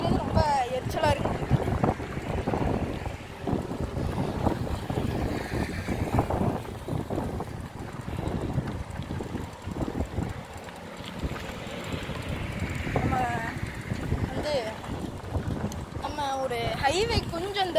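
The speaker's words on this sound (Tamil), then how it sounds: "காற்று தான் கைஸ் ஓவராக இருக்குது." Strong wind buffets the microphone in rough, rumbling gusts throughout while someone keeps talking over it, while cycling along a highway near Kanyakumari.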